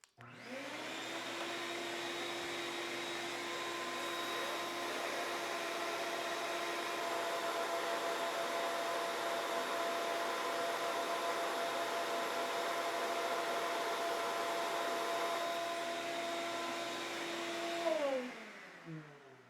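A vacuum with a brand-new filter runs for a dust collection airflow test, a steady, loud whining roar that holds constant from start to finish, then spins down at the very end.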